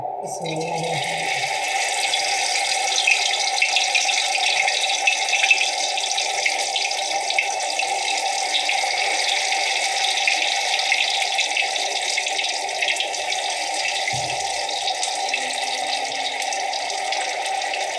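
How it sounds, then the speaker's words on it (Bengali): Potatoes fry in hot oil with a loud, dense, continuous hiss that starts almost at once and holds steady for the whole stretch. A brief low knock sounds near the end. "আমার তেলটা গরম হয়ে আসছে, এবার আমি এটাকে ভাজতে দিয়ে দিলাম"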